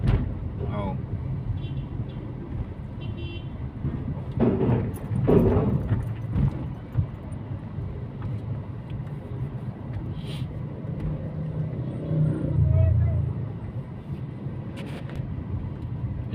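A car moves through traffic with a steady low road rumble, a passing vehicle swelling briefly louder near the end, and voices faintly over the noise.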